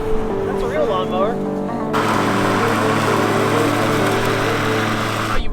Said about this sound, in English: That's a real lawnmower.